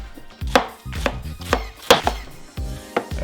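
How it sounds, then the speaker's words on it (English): A knife shredding cored cabbage quarters for sauerkraut, about seven crisp, evenly spaced chops against a board, loud and close with no talking. "And then we're just gonna shred it."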